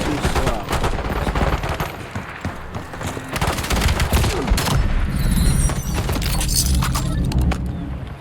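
Rapid automatic gunfire in an FPS shooter video game, dense bursts of sharp cracks and rattles with brief pauses, loud and continuous for several seconds, with a few brighter metallic clinks near the end.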